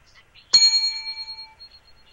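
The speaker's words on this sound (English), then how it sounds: "every time we do a cheesy little plug, that bell goes off." A single bright bell ding used as a comedic sound effect strikes sharply and rings out with a clear, fading tone for about a second.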